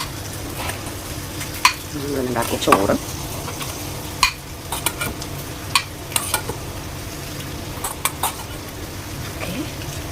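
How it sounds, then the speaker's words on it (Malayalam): Fish shallow-frying tawa style in a pan, a continuous sizzle with scattered sharp clinks of utensils and pan scraping, while a person talks briefly over it. "ഒരു തവാ സ്റ്റൈലാണ് എനിക്കിഷ്ടം. അപ്പോൾ മുഴുവൻ എനിക്കല്ല, അതുപോലെ അതുകൊണ്ട് കുറച്ച് നന്നായിട്ട് പൊരിക്കാം"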